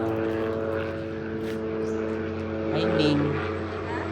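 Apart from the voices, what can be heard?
airplane flying overhead, landing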